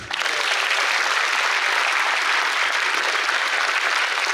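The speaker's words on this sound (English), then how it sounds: "Please join me in welcoming Acharya Prashant with a big round of applause." Sustained applause from a large audience at IIT Guwahati welcoming a speaker, loud and even throughout, a dense wash of clapping with no speech.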